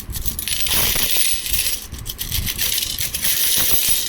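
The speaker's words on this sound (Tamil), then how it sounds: "இந்தியாவின் அண்டை நாடான நேபாள் நாட்டினுடைய யூஎன்சி காயின்." Nepali 1 and 2 rupee coins clink and jingle together as they are handled, a close, continuous metallic rattling with bright chiming taps throughout.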